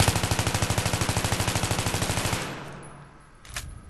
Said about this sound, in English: Now if you shoot and don't even touch anything with the M16, this is what happens.